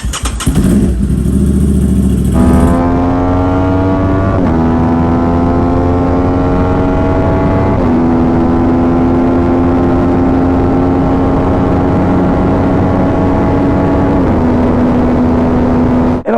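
A Yamaha YZF-R1 sport bike starts up and then pulls hard through long, loud rising revs, the engine note climbing in several sustained stretches with brief dips at gear changes, close and continuous, no talking.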